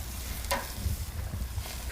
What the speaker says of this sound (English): freshly grilled onions to absolutely die for